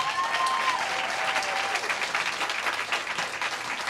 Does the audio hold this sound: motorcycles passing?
no